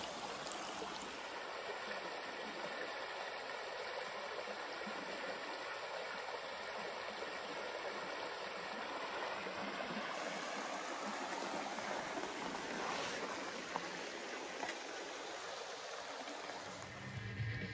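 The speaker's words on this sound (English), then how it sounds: "followed this creek all the way down to find all them waterfalls" Steady broadband rush of a creek running down a wooded valley over waterfalls, continuous and fairly loud with no breaks, no voices over the water.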